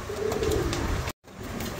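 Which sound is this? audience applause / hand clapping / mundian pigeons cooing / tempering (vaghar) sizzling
mundian pigeons cooing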